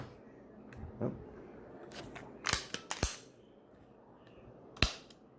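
Quiet, sharp mechanical clicks from an MCS T15 airsoft bolt being dry-fired, arriving irregularly as single snaps and a quick cluster against a faint background hiss.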